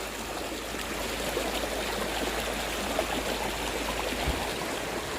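Flowing stream water on the route to an elephant camp in Coorg, Karnataka: a steady, broadband rushing and gurgling that stays even and fairly near throughout, with no voices.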